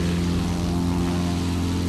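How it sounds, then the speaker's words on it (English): A propeller airplane takes off in the video game Battlefield 1943, a steady loud droning engine hum with a strong low tone, with no talk over it. "Plane just took off there."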